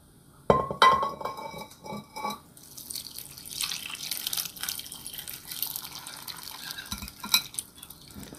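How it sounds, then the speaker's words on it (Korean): Cooled soy sauce is poured over celtuce stems and lettuce in a container for low-salt pickles. A few sharp clinks open the clip, then a steady trickling pour runs close by for several seconds. "식혀놓은 간장을 부어 주실 거예요."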